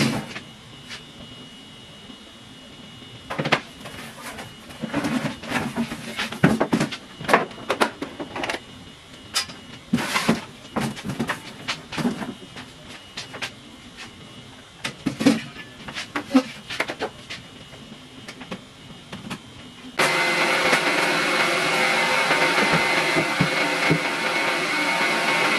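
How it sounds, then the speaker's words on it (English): After a stretch of scattered clicks and handling knocks, a loud steady whooshing drone of a hooded hair dryer starts up and runs continuously. "I'm going to set up my hooded dryer and sit under there"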